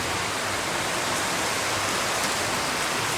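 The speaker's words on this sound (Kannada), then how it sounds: "ಹಾಗೆ ಇಲ್ಲಿ ಜೋರು ಮಳೆ ಬರ್ತಾ ಉಂಟು" Heavy rain pours steadily in a dense, even hiss with no pauses, loud and close throughout and no voices over it.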